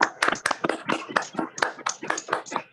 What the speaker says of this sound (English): Before everybody departs, give a big round of applause to Mahesh and his team and to Mr. Prakash Iy